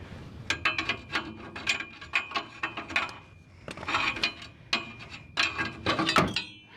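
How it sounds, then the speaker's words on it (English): A pry bar works a part loose on a Honda Civic Si 2.0L, giving a series of sharp metallic clanks and scraping knocks in irregular bursts, close and fairly loud with no talking. "now we're going to take a pry bar and get this thing the rest of the way off of here"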